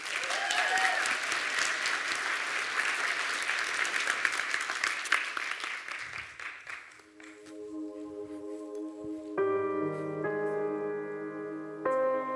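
An audience at a gospel meeting breaks into loud, sustained applause welcoming a performer named Revel, steady clapping that fades after several seconds as sustained keyboard or organ chords rise alone.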